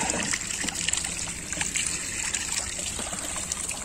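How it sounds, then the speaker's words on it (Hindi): Water pours steadily from a pipeline into a pond on a poultry farm, a continuous close splashing trickle and gurgle with no pauses, heard alone without any talking. "ये पाइपलाइन अच्छी रहती है, तो इसमें पानी आता रहता है।"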